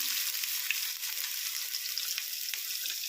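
Onions sputtering in hot oil give a steady, bright frying hiss with faint crackles, heard close and on its own without speech.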